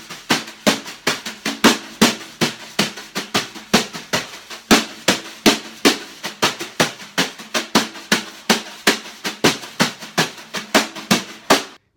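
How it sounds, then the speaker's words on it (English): Drum brushes on a kit play a Partido Alto samba rhythm, a close, crisp run of accented swishing strokes in a syncopated repeating pattern, heard alone without talk. "we're gonna take that brush pattern and we're gonna apply the Partido Alto rhythm to it"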